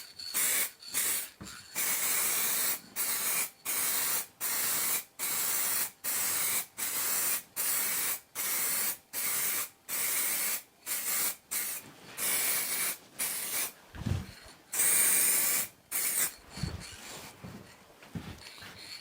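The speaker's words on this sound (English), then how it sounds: "spray it with a bit of satin finish lacquer." A spray can of satin finish lacquer hisses in a long series of short, even bursts, each a second or so, close and loud, with a few longer sprays and small clicks near the end.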